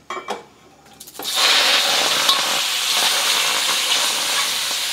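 Seafood including shrimp hits hot oil in a pan over medium-high heat, a brief clatter followed by a loud, steady sizzle and hiss that holds without break, with no talking.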